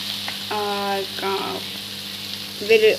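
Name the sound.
onions frying in a pan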